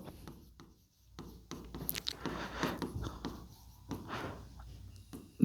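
Pen or marker writing a physics formula on a board or page during a class 10 lesson on light, a dry scratchy stroking that comes in short, uneven bursts with brief pauses, close and moderately quiet, with no talking.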